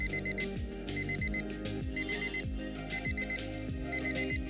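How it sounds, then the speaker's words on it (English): A phone alarm going off with a repeating electronic tune, bright beeping notes in a steady looping pattern over a low rhythmic backing, loud and continuous with no one talking. "I have a series of alarms in my phone that goes off."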